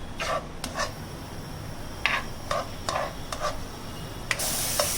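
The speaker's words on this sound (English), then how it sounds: "Now we will slightly saute the mushrooms." Mushrooms sautéing in butter in a pan over a low steady sizzle, with scattered scraping stirs of a spoon punctuating it close by.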